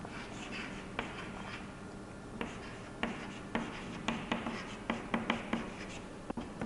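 A pen writing a probability total on paper during a maths lesson makes soft scratching strokes, with light taps that grow more frequent and rhythmic toward the end, close and quiet with no talk.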